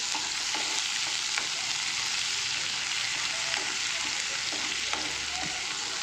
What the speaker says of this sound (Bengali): সুন্দরভাবে মশলাটাকে কিন্তু ফ্রাই করে নেবো।